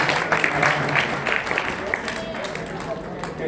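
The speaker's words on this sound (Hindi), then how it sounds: "जोरदार तालियां बजती, जोरदार तालियां" A crowd at an Arya Samaj religious gathering applauds in a continuous, dense patter while a voice talks over it at a similar level.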